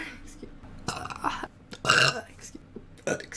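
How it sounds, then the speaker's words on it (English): Repeated burps after eating a burrito, several loud belches spread across a few seconds, with a person speaking briefly between them. "And still keep burping."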